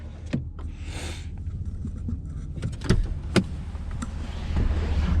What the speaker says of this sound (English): a power rear window in between the 2 side seats, as you can see there.